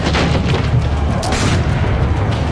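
Cannons fire in Assassin's Creed Brotherhood, several loud, heavy booms with rumbling tails in quick succession over a noisy battle backdrop.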